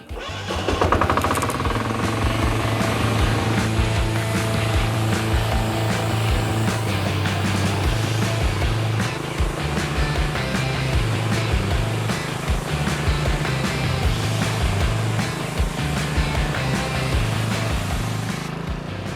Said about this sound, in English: So while holding the trigger to let the water flow through, I can start the engine.